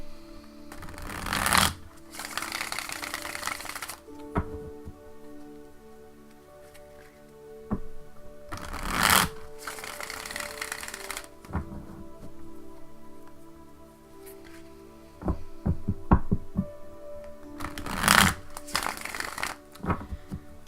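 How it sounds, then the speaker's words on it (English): A deck of tarot cards is shuffled in three loud riffling bursts spaced several seconds apart, with softer taps and handling clicks between them, close and alone in a quiet room. "just a couple more shuffles and we'll be ready to go"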